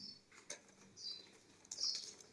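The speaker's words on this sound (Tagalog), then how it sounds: "Ilalabas ko sila sa labas. Ang aking alagang ibon." Pet lovebirds flap their wings in short, quiet fluttering bursts close by, with a few faint chirps between them.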